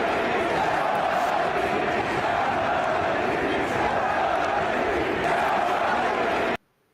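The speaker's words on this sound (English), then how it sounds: "the sellout crowd chanting, sell the team, Bob" A packed stadium crowd roars in a dense, steady wash of many voices, apparently chanting together throughout before cutting off abruptly near the end.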